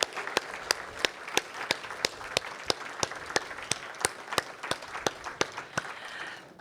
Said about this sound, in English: Please join me in giving Mark a huge round of applause.